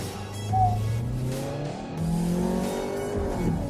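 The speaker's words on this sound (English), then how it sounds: "put your left leg on the brake, right leg on the accelerator, rev all the way up to 3000 RPM, and there." A 2020 VW Tiguan Allspace on launch control, its engine revving up loudly then pulling away with a rising, strained drone as it accelerates hard, close and continuous.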